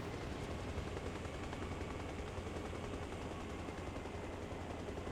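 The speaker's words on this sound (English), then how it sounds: "Once you start your helicopter, you're not really going to go anywhere until you hold your collective up" A helicopter engine in the ARMA Reforger video game spins up into a steady, dense rotor and turbine roar that holds loud and even throughout, with no voices over it.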